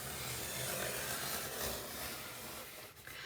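A paper trimmer blade slides through a sheet during a crafting session, producing a steady close scraping rub for about three seconds before it tapers off.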